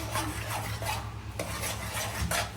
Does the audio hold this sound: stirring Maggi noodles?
yes